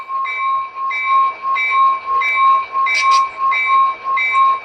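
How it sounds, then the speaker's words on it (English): A DCC sound-equipped model locomotive for a Santa Fe Little Chief train rings its bell in a slow, even series of about seven bright metallic dings, loud and close with no talking over it. "I might go with the slower bell."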